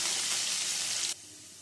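Potatoes fry in hot oil with salt and a pinch of turmeric, giving a loud, steady sizzle that drops abruptly to a quieter, softer hiss near the end.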